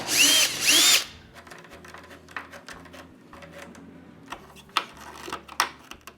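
A power drill whines loudly in two short close bursts while driving a screw into the rear panel of a coach, then quieter clicks, taps and handling noises of the work follow.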